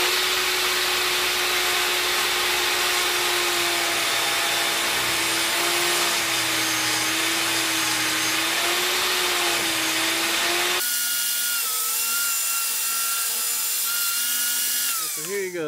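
A power saw runs nearby as wood is cut into quarter round and shoe molding: a loud, steady motor drone with a hiss of cutting. The pitch shifts and the sound thins near the end, with no talk over it.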